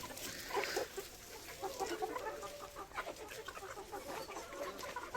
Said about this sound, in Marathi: इकडे भरपूर अशा कोंबड्या आहेत